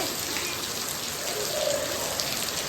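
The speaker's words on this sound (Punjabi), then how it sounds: "ਮੀਂਹ ਦੇਖੋ ਜੀ ਆਪਣੇ ਮੀਂਹ ਆ ਗਿਆ" Steady rain pours down, a dense continuous hiss of drops with no other sounds standing out.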